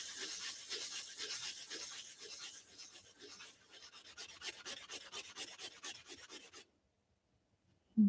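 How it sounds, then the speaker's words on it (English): A metal ring cut from a NYC subway token is rubbed back and forth against abrasive in quick, steady rasping strokes for several seconds, then stops abruptly, followed by near silence and a brief knock at the end. "it's really polishing it more than it is sanding it"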